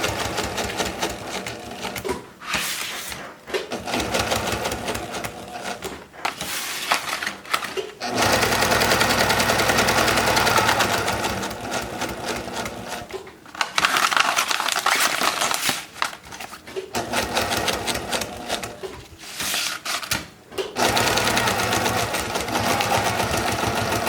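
A sewing machine running a straight stitch on a sailboat lazy bag, loud close bursts of rapid needle chatter separated by short pauses, with one long continuous run in the middle.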